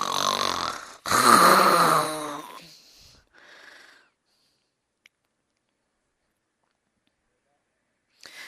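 A man imitates snoring with his voice, producing a loud, rasping inhaled snore followed by fainter wheezy breaths, close and then fading into near silence.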